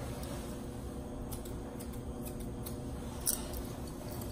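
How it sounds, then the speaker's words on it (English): Thinning shears trim a Yorkie's coat during a grooming session: light, rapid snipping that is faint and close, over a steady mechanical hum. "now I'm going to take the thinners"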